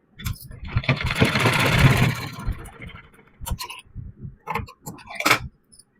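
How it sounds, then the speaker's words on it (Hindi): A sewing machine stitches a neck strip onto a child's suit cut down from an old adult suit. It runs in a steady whirring burst for about two seconds, then gives way to scattered clicks and short taps. "उसको मैं सिलाई करके इसको जोड़ लूंगी पट्टी को"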